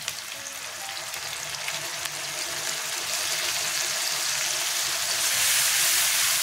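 Ginger and garlic paste frying with onions in a pan makes a steady hissing sizzle that swells louder toward the end, with a few faint stirring scrapes and no voices.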